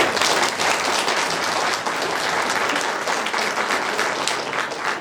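Audience applauding at a winter folk evening gathering in a Romanian village, thick continuous clapping that holds loud and even for several seconds without any speech.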